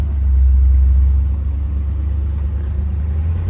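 A 1960 Edsel Ranger convertible engine hums as a steady low rumble while riding, even and fairly loud throughout, with no voices.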